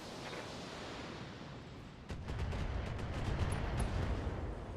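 LRM-15 long-range missile salvos fire in the BattleTech video game: a steady low hiss gives way midway to a heavier rumbling barrage of rapid launches and blasts, fairly quiet overall with no voices.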